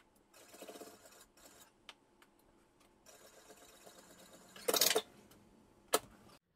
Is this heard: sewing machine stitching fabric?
yes